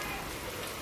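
Rain falling outdoors in open farm fields, a soft, steady hiss and patter of drops that stays even and fairly faint throughout the short moment.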